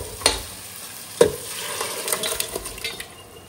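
Cooked mutton stirred into softened tomatoes in a pan, a spoon scraping and knocking with a couple of sharp clacks over a steady close sizzle of frying.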